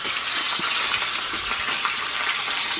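Pompano fish fry in an uncovered pan, giving a loud, dense, steady sizzle with scattered crackles and pops, close up and uninterrupted by talk.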